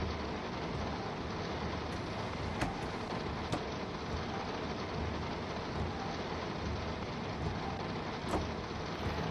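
Steady rain in Train Sim World 2 on the East Coastway, heard with a Class 377 train, a dense continuous hiss at an even level with a few faint clicks and no talk.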